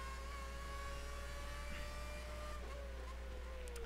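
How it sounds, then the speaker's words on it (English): Formula 1 car engine in the racing game F1 2011 during the Melbourne race, a faint high whine that holds steady and then drops in pitch near the end, over a low constant hum. "as we hear that lovely engine noise"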